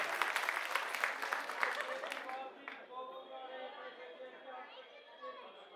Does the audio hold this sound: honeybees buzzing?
no